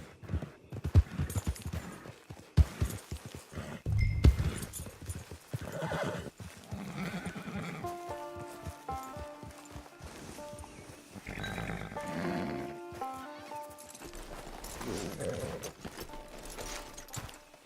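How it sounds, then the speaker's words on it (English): A horse in Red Dead Redemption 2 neighs and whinnies loudly, its hooves clip-clopping in uneven bursts, with shifting tonal calls and snorts through the middle and a low ambient bed behind. "Hitch your horse."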